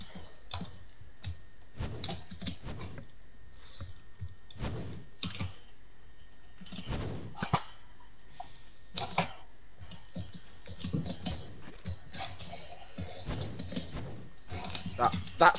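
A computer keyboard is mashed in rapid, uneven bursts of clattering keystrokes and clicks during a game of Super Smash Mobs. The clatter is close and fairly quiet, with sparse voices now and then.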